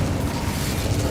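Casting the Incendio fire spell in Hogwarts Legacy gives a short, loud, dense burst of whooshing, roaring flame that fills the whole moment, with no talking.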